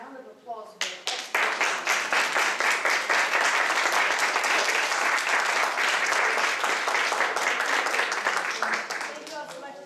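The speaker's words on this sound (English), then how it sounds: "I want us a round of applause for" A conference audience at an EU panel in Miami bursts into dense, sustained applause that swells quickly and holds steady for about nine seconds before easing slightly, with a few voices faintly audible at the start.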